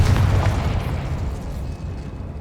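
A Confringo spell blast in the Hogwarts Legacy video game: one loud, deep boom with a heavy low rumble that slowly rolls off over a couple of seconds, with no voices.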